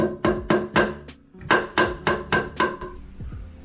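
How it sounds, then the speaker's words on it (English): A hammer drives a screw through the handle hole of a solid wood dresser, nine sharp, evenly spaced metallic strikes in a steady rhythm, loud and close, followed by a brief quiet tail. "So drive it through with the hammer and then poke it back through with the screw from the other side."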